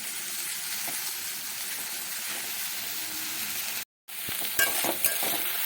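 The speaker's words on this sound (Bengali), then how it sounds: "আলুগুলো দিয়ে ভালো করে মিশিয়ে আবার বেশ কয়েক মিনিট ভালো করে ভাজবো" Potatoes and drumstick greens frying together in a pan, a continuous loud sizzle with a brief break, then stirring clinks and scrapes over the hiss.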